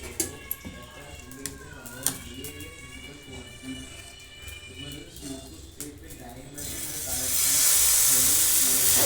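Ragi adai batter hits a hot dosa griddle, and a loud, broad hiss of sizzling and steam surges up near the end, following quieter kitchen clatter and someone talking.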